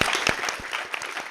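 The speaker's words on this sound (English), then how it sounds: "I hope you guys can give a round of applause to all of our panelists" A seminar audience gives a brief round of applause for the panelists, with distinct, fairly sparse individual claps that sound moderately close in a hall.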